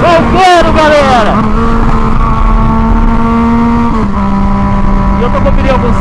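A Yamaha MT-09 (FZ-09) motorcycle with a straight-pipe exhaust, loud and close, rising through a sharp rev, then settling into a steady droning engine note that dips in pitch partway, with a rider's voice briefly over it.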